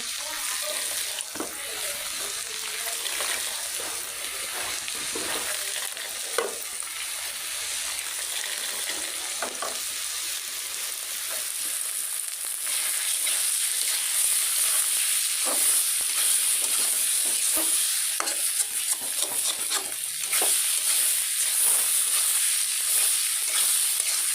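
Vegetables fry in a pan with a steady, loud sizzle that continues throughout, punctuated by occasional scraping and stirring clicks; no talking.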